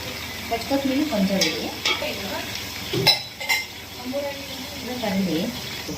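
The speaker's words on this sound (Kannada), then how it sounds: "ಈರುಳ್ಳಿ ಕೊತ್ತಂಬರಿ ಸೊಪ್ಪು ಪುದೀನ ಎಲ್ಲ ಹಾಕಿದರೆ ಹಾಕಿದ್ದಾರೆ ಅದೆಲ್ಲನೂ ಹಾಕಿ ಫಸ್ಟ್ ಫ್ರೈ ಮಾಡ್ಕೋಬೇಕು" Onion, coriander leaves and mint fry in a pan for mutton biryani, a constant sizzle running under a person talking, with several sharp spoon clanks against the pan.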